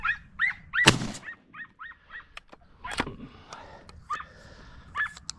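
Hunting dogs give several sharp barks while chasing rabbits outdoors in California, with yelps and bays scattered across the clip, one loud burst near the start and others farther off.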